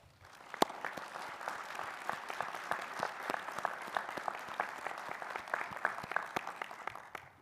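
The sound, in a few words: graduation audience applause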